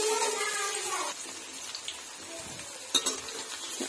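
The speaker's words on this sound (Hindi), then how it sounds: "तो आप देखिए हमारा मूली और प्याज दोनों बिल्कुल अच्छे से फ्राई हो चुका है।" Radish and onion fry in a pan for a ridge gourd and radish curry, giving a steady soft sizzling hiss with a few faint clinks near the end.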